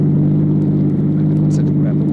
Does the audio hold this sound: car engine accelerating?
yes